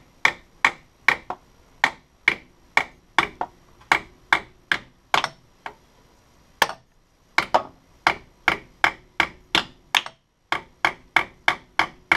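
A ball peen hammer taps metal clutch parts in a steady rhythm, about two dozen sharp, close strikes with a short pause partway through.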